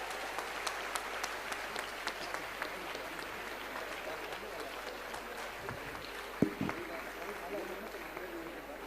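Audience applause at an international health summit, a steady wash of clapping across the hall at moderate level, with occasional sharper claps and a brief thump near the end.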